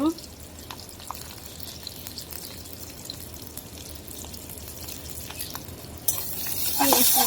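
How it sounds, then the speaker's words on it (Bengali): Green chillies and onion frying in oil for a sour tengra fish curry: a steady, close hiss of sizzling that swells louder and brighter near the end, with no talking. "তেল দিয়ে দিলাম কাঁচামরিচ পেঁয়াজ দিয়ে দিব"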